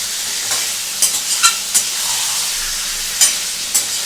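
Aloo paneer curry with Kashmiri chili powder stir-fried in a pan, a steady sizzle broken by sharp spatula scrapes and clicks roughly every half second.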